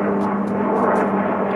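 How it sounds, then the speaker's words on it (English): Airplanes passing overhead outdoors on a windy day, a steady broad roar with a low hum, loud and continuous throughout, no talking. "We got the wind and airplanes flying overhead."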